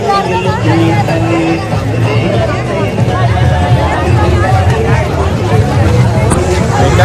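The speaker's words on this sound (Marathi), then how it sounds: "इकडे एवढी गर्दी आहे ना खूप गर्दी आहे" Large crowd at a Mahashivratri village fair, a dense steady babble of many voices close around, with people talking nearby throughout.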